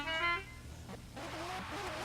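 A car horn gives one short, loud honk at a drift qualifying event, signalling the start of a run, then fades into a lower engine rumble and ambient track noise.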